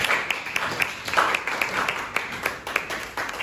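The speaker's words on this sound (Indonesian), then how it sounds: "Kita tepuk tangan dulu buat semua." A group applauds presenting student groups in a classroom, a steady burst of clapping from many hands that carries on for several seconds, with faint talk underneath.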